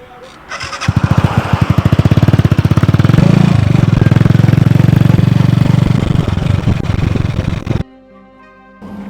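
A bike-taxi motorcycle engine fires up and runs loud and close for about seven seconds with a steady rapid chugging beat, then cuts out abruptly, leaving quiet background noise.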